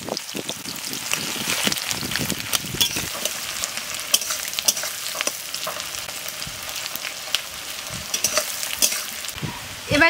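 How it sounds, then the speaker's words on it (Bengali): Chopped onion hits hot oil already spiced with bay leaves, cumin, cardamom, cinnamon and cloves for a mutton curry, giving a steady, close, crackling sizzle with stirring scrapes throughout. "তেলটা গরম হয়ে গেছে, তেলে এবার ফোড়নের জন্য দিয়ে দিচ্ছি 2 তেজপাতা, জিরে, এলাচ, দারচিনি আর লবঙ্গ। এবার কুচানো পেঁয়াজটা দিয়ে দিচ্ছি।"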